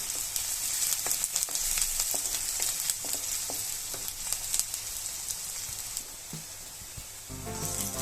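Onion sautés in an oil-filled pan for cabbage manchurian, giving a steady close sizzle with intermittent spatula scrapes and stirring clicks. The sizzle fades slightly late on, and a low tonal sound enters at the very end.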